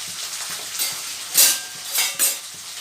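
Green chilies, onions and curry leaves tossed into very hot oil, giving bursts of crackling sizzle that flare up and fade, close by and mixed with light utensil clatter.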